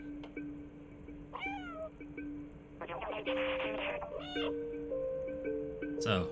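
Cat meows from the video game Stray, several close, clear, drawn-out mews with rising and falling pitch over a steady electronic hum and background game sounds.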